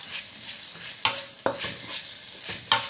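Curry paste for a Thai beef-skin curry is stir-fried in a little oil, giving a soft continuous sizzle broken by a few sharp scrapes and clinks of a spatula against the pan.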